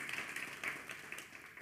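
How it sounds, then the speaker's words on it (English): Applause from a church-style gathering's audience, a steady wash of many hands clapping at moderate distance, fairly faint and continuous without voices. "Please give yourselves a round of applause."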